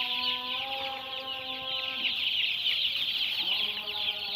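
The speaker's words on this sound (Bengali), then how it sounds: "এখন দৌড়ে বেড়াচ্ছে মুরগি, সুস্থ আছে মুরগি।" Broiler chickens on a poultry farm clucking continuously, several birds heard close by in a busy, overlapping chorus of short repeated calls.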